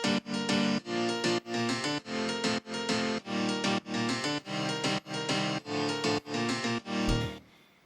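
Rhythmic piano chords for a tropical house track pulse in short, evenly spaced bursts with a pumping sidechained swell, clear and alone without any voice.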